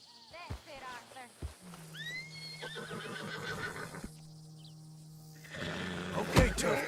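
A horse in the Red Dead Redemption 2 game whinnies loudly several times with rising and falling squeals, then gives a snorting call near the end, over a low ambient drone with faint hoof sounds.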